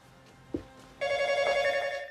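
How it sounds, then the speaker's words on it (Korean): A telephone bell starts ringing abruptly after a brief knock, a steady trilling electronic ring that continues loudly to the end. "갑자기 울리는 전화 소리에 그녀는 다급히 전화기를 찾습니다."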